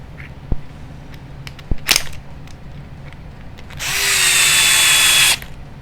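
A power driver whirs near the end, running screws into the front clip of a Tekno NB48 RC car, preceded by a few sharp clicks and taps of parts being handled close by.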